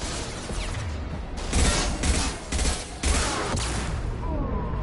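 Gunfire from the video game Mass Effect 2: a run of loud, rough bursts arrives in quick succession over a steady background of game noise, with no voices.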